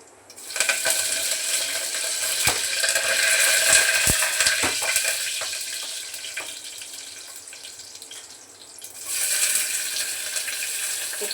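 Curry leaves and garlic hitting hot oil in a heated pressure cooker, a loud burst of crackling sizzle that fades then swells again, with sharp pops and clicks scattered through it.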